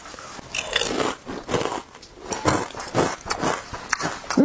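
Repeated crisp bites and crunches into chocolate tiramisu cake, close and loud, come in an uneven rhythm of about eight distinct chomps with chewing between them, with no talking.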